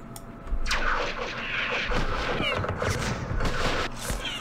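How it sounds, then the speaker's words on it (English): Dense, continuous gunfire and artillery-like booms from the WWII strategy game Campaign Series West Front, set on Omaha Beach during D-Day. The shots overlap steadily and loudly for the whole stretch with no talking. "let's do some firing first"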